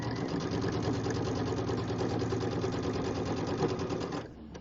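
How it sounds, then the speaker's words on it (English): A sewing machine stitches a quarter-inch seam through a quilt sandwich, a rapid, even mechanical chatter running close and continuous before stopping abruptly near the end. "Then I'm going to sew my 1/4 inch seam."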